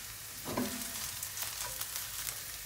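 Sliced mushrooms frying in a large pan for a persillade, a soft steady sizzle with faint stirring scrapes, fairly quiet and close.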